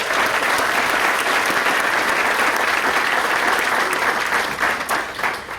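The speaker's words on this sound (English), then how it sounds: "A round of applause for all those sponsors." An awards ceremony audience applauds together, dense, steady clapping filling the room at full volume, tapering slightly at the end.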